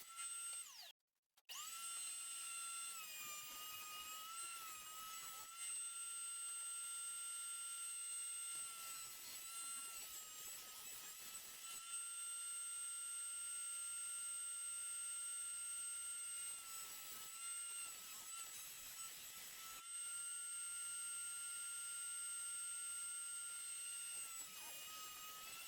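A new 8-inch wide woodworking machine, likely a jointer, runs steadily and loudly with a sustained high motor whine, broken only by a brief stop near the start, with no talk.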